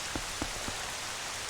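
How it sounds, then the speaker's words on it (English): Rain in the video game The Legend of Zelda: Twilight Princess, an even, dense hiss with no music, broken by three soft low footstep-like thuds early on. "The lack of music and just, like, the sound of the rain is very atmospheric."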